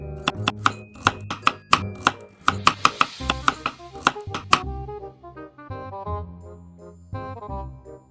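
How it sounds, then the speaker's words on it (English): Rapid knife chops on a board, a quick regular run of sharp hits that slows and fades, with faint ringing tones behind. "Begin chopping."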